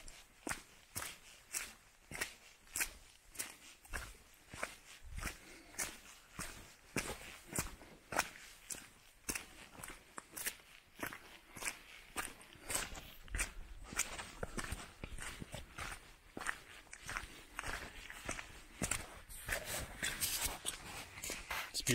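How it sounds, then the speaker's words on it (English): Footsteps splash and slosh through a shallow river on the Appalachian Trail in the Great Smoky Mountains, a steady walking rhythm of wet strides, close and fairly loud, continuing for over twenty seconds outdoors. "You can hear me sloshing through."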